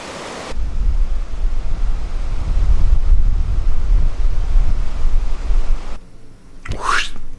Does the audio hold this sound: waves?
yes